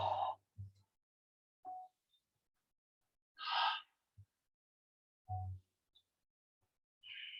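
Deep breaths during a yoga session, a series of separate close inhales and sighing exhales with silent gaps between them, no talking.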